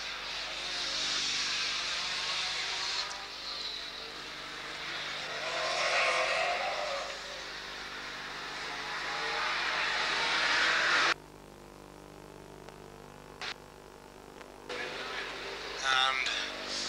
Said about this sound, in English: Jim Wardrop moves up and outside to fifth and hits the back of a slower car